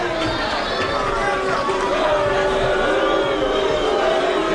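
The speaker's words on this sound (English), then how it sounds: "You hear the crowd here at the Casino San Pablo." A kickboxing crowd fills Casino San Pablo with a constant roar of chatter and cheering, steady and fairly loud, with a commentator's voice over it.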